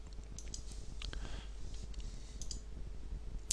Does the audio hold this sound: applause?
no